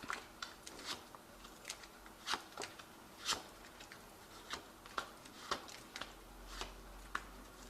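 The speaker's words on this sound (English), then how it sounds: "I have shuffled this deck" Crisp tarot card snaps and flicks come up close at a loose, steady pace, one after another, like a deck being shuffled slowly and quietly.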